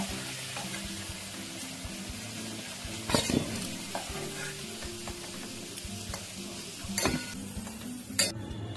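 Potatoes fry in a pan with a continuous crackling sizzle, broken by several loud scraping stirs of a spatula and short clanks.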